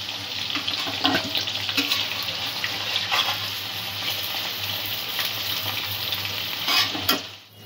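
Mixed vegetables frying in hot oil for a shol fish curry, a steady close sizzle with occasional scraping stirs and a louder clatter near the end, no voices.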